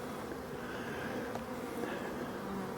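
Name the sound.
honeybees flying and foraging at the hive in October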